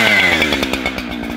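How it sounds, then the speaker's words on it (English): A chainsaw runs loud and close during winter tree felling in a maple bush, its engine whining high then settling into a rough, steady drone over a short burst. "So anyway, chainsaw time."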